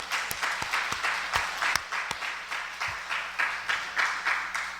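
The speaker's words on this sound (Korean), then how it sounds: "하나님께 영광의 박수 올려드립시다." A church congregation claps together in a steady, rhythmic applause of sharp, evenly spaced claps, moderately close and without talk.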